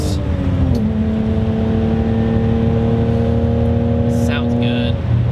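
A BMW E30 accelerates steadily, its engine note a sustained droning hum that holds and shifts slightly in pitch before easing off, with faint background sounds near the end.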